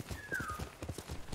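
Horse hooves clip-clopping in the video game Ghost of Tsushima, a steady rhythmic trot of repeated hoof beats, close and fairly loud, with a brief whinny-like tone over it.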